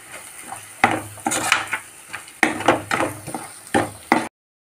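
Spices frying on a low flame in a pan for Shahi egg kofta, stirred with a utensil that scrapes and clinks against the metal in irregular bursts over a faint background sizzle.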